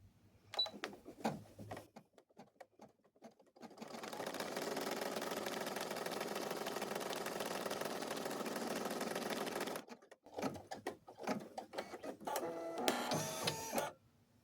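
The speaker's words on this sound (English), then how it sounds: "we're going to stitch down the next placement stitch" Sewing machine running a placement stitch through cloth doll dress fabric: a steady mechanical whir holds for about six seconds, framed by shorter bursts and handling clicks before and after.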